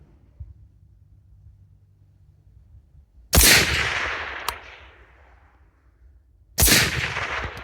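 Two loud, close AR-10 rifle shots fired at a silhouette target a few seconds apart, each a sharp crack trailing off into a long rolling echo over faint low background hum.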